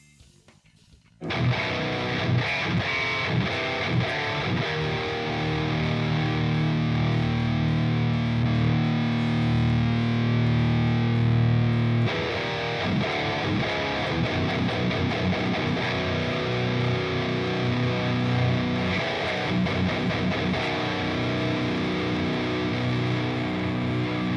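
Heavily distorted electric guitar chords through a Kazrog Ampcraft 1992 amp simulator ring out loud and sustained after a brief quiet start, with a short break in the middle before playing continues.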